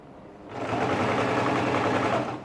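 A sewing machine runs steadily and close, stitching near the edge of a ladies' shirt dress, with a fast, even whir that starts abruptly and holds to the end.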